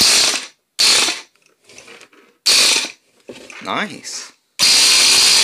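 A Ryobi 18-volt cordless power tool whirs in several loud bursts that rattle like an impact gun. Short spoken remarks fall in the gaps between the bursts.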